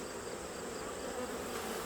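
A thick, continuous buzz rises from honeybees crammed onto the frames of a fall hive preparing to swarm, close and steady throughout with no talking.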